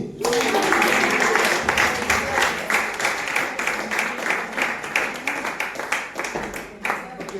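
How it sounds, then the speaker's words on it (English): An audience at a teacher training session breaks into loud, sustained applause, with many hands clapping densely together and a voice briefly heard over it, then thinning slightly toward the end. "Clap for me!"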